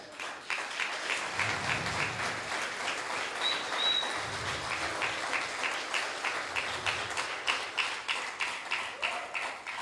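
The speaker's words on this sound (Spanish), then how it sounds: "No sé si aplaudo de contento o para que vaya terminando." A church congregation claps in a steady rhythmic beat, many hands together in unison at a moderate pace, sustained for about ten seconds with a faint voice mixed in beneath.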